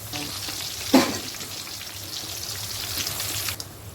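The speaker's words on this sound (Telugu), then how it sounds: "ఇలా కొంచెం సేపు వేగిన తర్వాత తిరగదిప్పుకోవాలి" Potato chips fry in hot oil with a continuous, close bubbling sizzle, and one sharper splash or stir lands early on.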